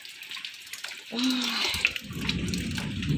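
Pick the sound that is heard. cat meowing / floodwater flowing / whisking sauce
floodwater flowing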